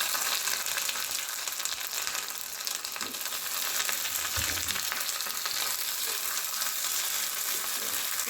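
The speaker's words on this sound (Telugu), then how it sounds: "ఆయిల్ హీట్ అయిన తర్వాత ఈ పీసెస్ వేసుకోవాలి." Fish pieces shallow fry in a tablespoon of hot oil, giving a dense, steady sizzle that fills the whole stretch, with a soft low thump partway through.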